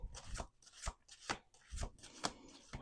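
Tarot cards being shuffled by hand, a series of crisp riffling bursts in an uneven rhythm, close and moderately quiet with no talking.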